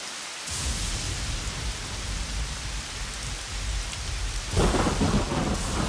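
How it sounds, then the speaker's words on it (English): Heavy cartoon rain pours steadily with rolling thunder underneath, a loud continuous wash that swells even stronger near the end, with no voices. "The way it's raining, I think the bridge will be flooded."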